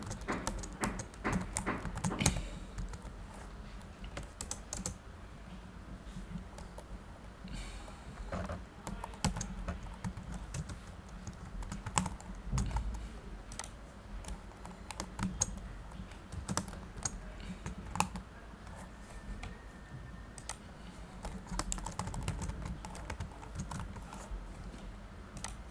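Keys clatter steadily on a computer keyboard as names are entered into an Excel spreadsheet, a close, continuous run of quick uneven taps with short pauses and a low room hum underneath.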